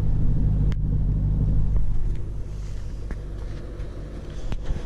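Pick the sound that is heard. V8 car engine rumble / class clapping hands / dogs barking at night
V8 car engine rumble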